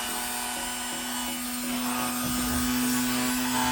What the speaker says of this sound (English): So I got my Dremel and I need to